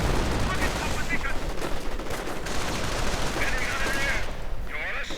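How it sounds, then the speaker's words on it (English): Dense rifle and machine-gun fire from a strategy video game battle, with rapid overlapping bursts rattling continuously at close range, loud and busy throughout. "Those Grenadiers keep on firing and they just can't hit."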